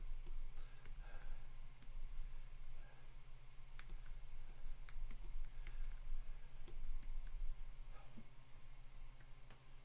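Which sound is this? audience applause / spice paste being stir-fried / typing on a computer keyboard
typing on a computer keyboard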